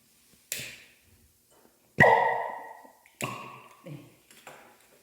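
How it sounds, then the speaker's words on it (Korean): Hydrogen gas from sodium metal reacting with water is ignited: several sharp pops in sequence, the loudest a sudden bang at two seconds with a ringing tail, followed by smaller bursts; no talking. "수소는 이런 소리가 납니다."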